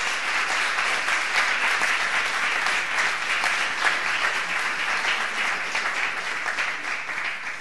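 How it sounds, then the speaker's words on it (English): Audience applause for the panelists at the ICUP Award Ceremony 2022, a steady, dense clapping that holds at an even level for the whole stretch with no talk over it. "I think we can applaud them."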